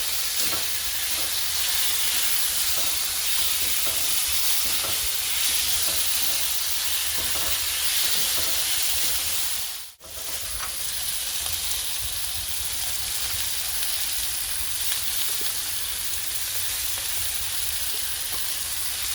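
Butter melting and sizzling in a little olive oil in a cooking pot gives a steady, bright frying hiss that cuts out for a moment midway, then resumes just as evenly.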